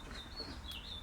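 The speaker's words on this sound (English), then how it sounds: "the bird just came over here and it's like, chirp, chirp, chirp" Small bird chirping outdoors in short, thin high calls that come and go, faint against steady low background rumble, with no talking.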